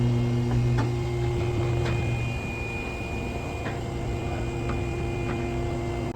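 A vehicle lift raises a 2019-2025 Toyota RAV4 in a dealer service bay, giving a loud, steady mechanical hum with faint ticks over continuous shop noise.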